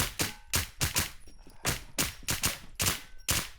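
Gunfire in the online game The Crown Classic: a rapid string of loud, punchy shots in close bursts, about eight in under four seconds, with no talk over them.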